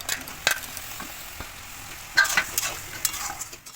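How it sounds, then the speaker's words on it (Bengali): Papaya pieces simmer in sugar syrup in a pan for tutti frutti, giving a soft bubbling sizzle punctuated by several sharp scraping stirs of a spoon against the pan, close up with no talking. "2-3 মিনিটের মতো শিরার সাথে পেঁপেটা জাল করে নেব"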